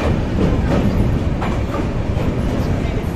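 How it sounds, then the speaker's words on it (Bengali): A passenger train pulls out of Varanasi, rolling on the rails with a loud continuous rumble and faint rhythmic clatter, heard from on board. "আমাদের ট্রেন এই মুহূর্তে বেরোচ্ছে বারাণসী"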